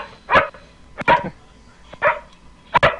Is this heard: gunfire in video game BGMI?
no